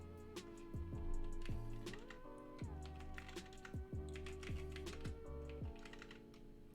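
Fingers typing on a computer keyboard, a quick run of light clicking keystrokes in irregular bursts, close but quiet, with no voices.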